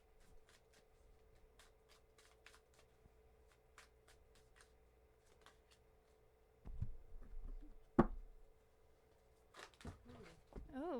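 Soft, quick riffling of tarot cards being shuffled repeatedly close by, then some louder handling thumps and a brief voice.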